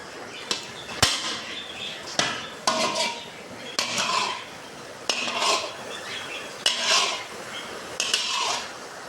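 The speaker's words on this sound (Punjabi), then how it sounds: "ਥੋੜਾ ਥੋੜਾ ਆਪਾਂ ਹਲਾਈ ਜਾਵਾਂਗੇ ਇਹਨੂੰ ਥੱਲੇ ਲੱਗਣ ਤੋਂ ਥੱਲੇ ਨਾ ਲੱਗ ਜੇ" A spoon stirs khoa into carrot halwa (gajrela) in a metal pan. Scraping and clanking strokes sound close and fairly loud, repeating about every second in a steady rhythm.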